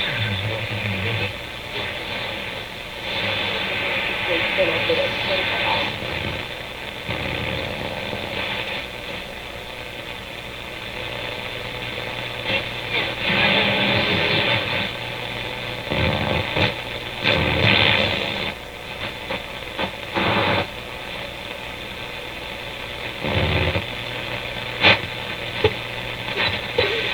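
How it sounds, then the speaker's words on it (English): Ham radio Morse code plays through a vintage RCA A-32 Globetrotter radio, faint keyed tones in broken bursts over steady hiss, static and noise for nearly half a minute, with no talk. "So that's ham radio Morse code there."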